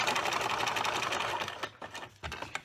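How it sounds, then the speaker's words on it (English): A sewing machine runs steadily, stitching a fabric tote bag made from jelly roll strips, then stops and starts in short bursts near the end. "leave a gap between the two sets of stitching"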